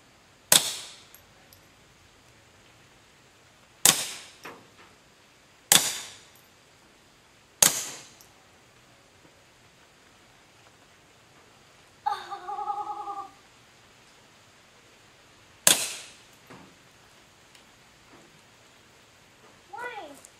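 Sharp gunshots during outdoor target shooting, about six reports spread irregularly over twenty seconds, each loud and crisp with a short decay, and a brief burst of voices in between.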